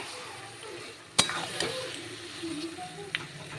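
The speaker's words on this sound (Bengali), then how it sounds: "এবার একটু ভালো করে নেড়ে চেড়ে কষিয়ে নেব।" Spiced chicken stomach and liver frying in a pan while being stirred, a soft sizzle under sharp utensil scrapes and clinks against the pan, close and fairly quiet.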